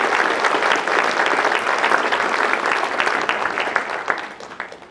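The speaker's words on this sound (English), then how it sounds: "Ladies and gentlemen, big round of applause." Audience applause at a town hall for speaker Blaine Badiuk, a dense, steady crowd of clapping hands that stays loud throughout and tapers slightly at the very end.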